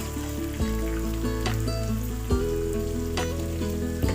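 Mixed vegetables frying in oil for a Kerala-style curry, a dense steady sizzle with a few sharp pops and clinks of stirring, close and continuous without any talk.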